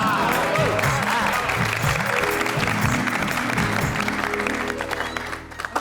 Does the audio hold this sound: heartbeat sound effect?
no